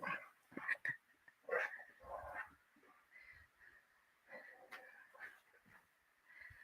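Boxer dogs at play give quiet scattered yips, whimpers and scuffling as they jump and pounce, the sounds faint and intermittent.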